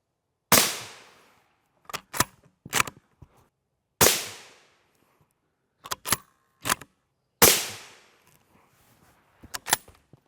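Three sharp, loud M855 rifle shots strike a lightweight NIJ III+ body armor plate, each crack decaying quickly and spaced about three seconds apart, with small clanks and handling noises in between.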